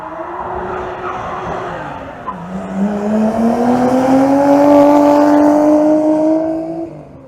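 A Nissan Skyline R33 engine revs up at Goodwood Motor Circuit with a rising, throaty drone that swells loudly and holds before fading slightly at the end.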